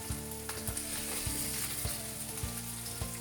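Spices sizzle steadily in oil in a pot while being stirred, a continuous frying hiss with periodic scraping knocks of the spoon, close and alone without talk.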